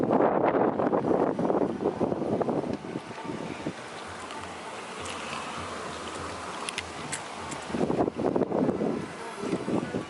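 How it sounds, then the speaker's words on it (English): Strong wind buffets the microphone outdoors in rough, rumbling gusts that rise and fall, loudest at the start and end. "It's real windy outside today, so I apologize."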